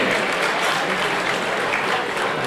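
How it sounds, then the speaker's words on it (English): Applause from an art auction crowd in a Beverly Hills hotel ballroom, a dense steady clapping that fills the whole stretch at full volume with no gaps. "A big round of applause if you will, ladies and gentlemen"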